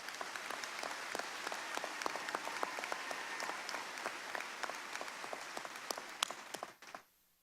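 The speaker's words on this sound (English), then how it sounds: "another big round of applause" A crowd at a university commencement applauds steadily with dense clapping that continues for several seconds, then tapers off and stops abruptly near the end.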